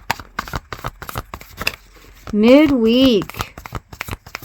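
Tarot cards shuffled by hand in short bursts of soft papery clicks and riffles, close by, running beneath a person talking throughout, with a brief hummed or sung tone partway through.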